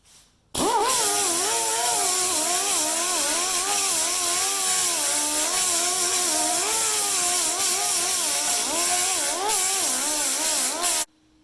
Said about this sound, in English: This is a 24 grit grinding pad.